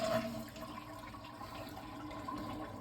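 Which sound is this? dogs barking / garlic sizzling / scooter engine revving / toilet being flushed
toilet being flushed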